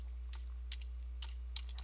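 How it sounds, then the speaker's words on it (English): Sparse, faint keystrokes on a computer keyboard, a few light clicks in irregular bursts over a quiet background hum. "typing at the same time."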